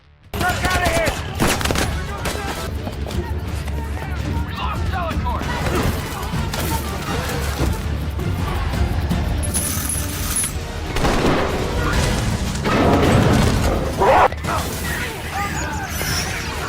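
Sustained movie shootout gunfire, dense bursts of shots and crashes rolling continuously with loud impacts throughout, mixed under a narrator speaking.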